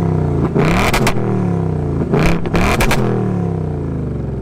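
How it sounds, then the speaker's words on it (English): A 2024 Ford Mustang GT, S650 generation, with its Gen 4 Coyote V8 in track mode revs loudly and close: two sharp throttle blips rise over a rumbling idle, then the engine settles back. "Case, this Gen 4 Coyote sounds absolutely insane, especially in track mode."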